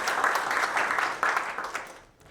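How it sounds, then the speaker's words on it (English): A crowd at an awards ceremony applauding steadily, a dense wash of clapping that fades out toward the end. "So another round of applause for Mr. Caravan."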